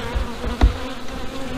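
Honey bees hum at an open hive, a dense continuous buzz with one brief louder thump partway through, no voices.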